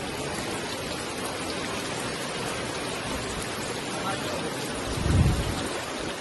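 Heavy rain pours down in a steady, dense hiss, with a brief low rumble swelling near the end, during about eleven inches of rainfall in a Gujarat village, streets flooding.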